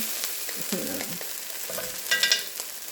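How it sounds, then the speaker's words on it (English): Roasted garlic bouillon being stirred into a pot of Cajun red beans and rice, a soft spoon scraping with light sizzling and a few brighter clinks near the end, close and moderately quiet. "Stir that together."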